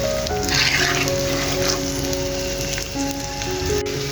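Green chilies cook over medium heat in a pan for a pickle, giving a loud, steady sizzle and crackle throughout with no voices.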